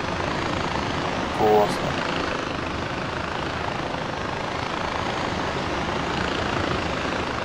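Helicopter in the co-op video game Far Cry 4, a loud continuous rotor and engine roar that holds steady throughout, with a brief spoken remark from a player.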